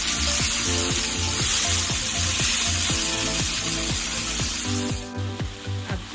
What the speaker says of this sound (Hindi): हमें फ्राई करते हुए 1 मिनट हो गया है